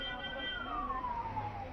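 An ambulance siren sweeps past at the scene of a spreading fire at an electricity department office in Raipur, a wailing tone gliding downward as it moves away, steady and moderately loud against background noise.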